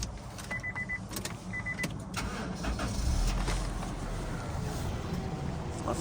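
A 1997 Honda CR-V engine idling with a low steady rumble, a few sharp clicks and short whines near the start, then a slightly louder, even running hum to the end; no talking.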